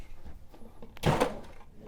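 A kitchen drawer in a Flagstaff 21DS RV travel trailer slides and bumps shut once, a short close knock with a brief rattle after quieter handling sounds.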